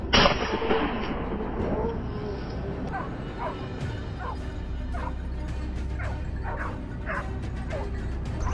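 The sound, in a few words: hunting dogs barking in thickets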